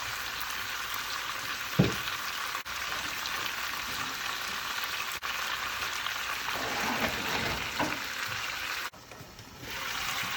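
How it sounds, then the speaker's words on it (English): Masala goat chops simmer in a pan over low heat, giving off a steady bubbling sizzle with faint spoon scrapes and an occasional soft knock, without any talking. "let it simmer these chops for about 10 minutes on low heat"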